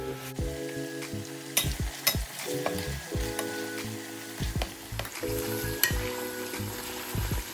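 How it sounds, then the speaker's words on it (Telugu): Ginger garlic paste fries in hot oil with a steady close sizzle, while a spoon stirs it in scraping strokes and clinks against the pan. "మీరు అల్లం వెల్లిపాయ వేసాక కొంచెం సేపు ఆయిల్లో ఫ్రై అవ్వనివ్వండి"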